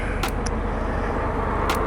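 Honda Gold Wing motorcycle on the road, a steady engine drone with wind rush, close and continuous with a couple of brief higher blips.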